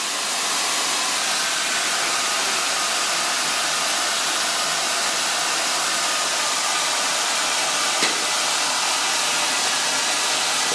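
A hair dryer blows continuously on hair at close range, a loud, even broadband whoosh that holds steady for the whole stretch with one brief click near the end and no talking.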